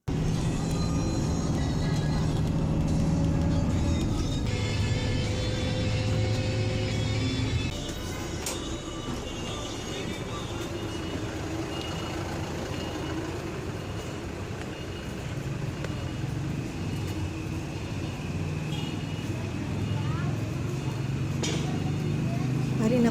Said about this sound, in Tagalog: Gasakay ko subong sa bus guys.